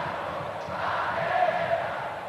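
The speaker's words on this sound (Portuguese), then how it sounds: "E a torcida dá uma torrada no Parreira" Stadium football crowd at a 1994 Libertadores match between Cruzeiro and Boca Juniors jeering coach Parreira, a broad, sustained roar of massed voices swelling slightly in the middle, distant and continuous.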